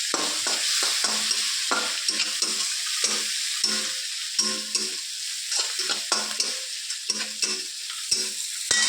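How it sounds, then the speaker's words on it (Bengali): Prawns fry in a pan with a steady hot sizzle, broken by repeated scraping stirs of a spatula at an uneven rhythm, heard up close. "চিংড়ি মাছটাও ভাজা হয়ে গিয়েছে"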